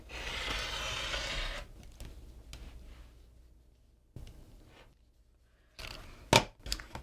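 Quilt fabric cut along a ruler line, a soft continuous slicing rasp at first, then quiet handling noises, scattered light taps and a sharp close clack near the end.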